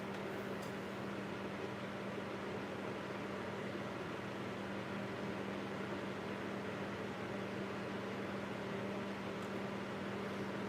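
An electric fan runs in a room, a faint, steady whooshing drone with a constant low hum, unbroken for the whole stretch with no talking.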